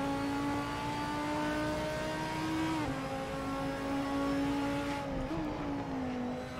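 A race car engine in Assetto Corsa holds a steady high drone on a track, the pitch easing down and dipping briefly with gear changes, loud and continuous with no talk.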